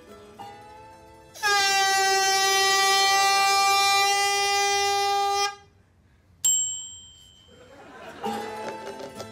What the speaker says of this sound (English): I'm going to blow the air horn.